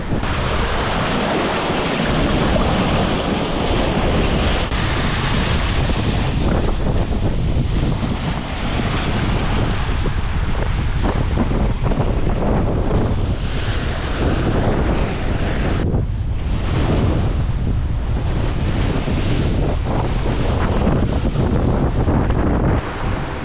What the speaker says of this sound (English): There's not that much wind, but the sea's really unpleasant. There's swell from all sorts of directions, and it's really chunky and lumpy